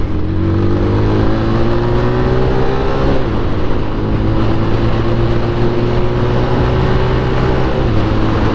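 A Braap ST250 motorcycle accelerating hard, its engine droning loud and steady with rising tones that drop at each gear change, heard close over continuous wind roar.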